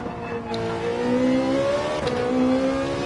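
Race car engine in Gran Turismo 7 on the Daytona road course, pulling away from a standing start with traction control set to 2: a close, loud rising rev through two climbing pitch sweeps and a brief shift, with no talk.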